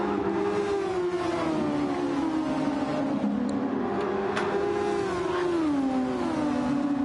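Formula 1 race cars in a racing video game, running on soft tyres, with a steady, loud engine whine that rises and falls in pitch as the cars accelerate and brake, continuous throughout with no talking.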